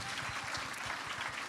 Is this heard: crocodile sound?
no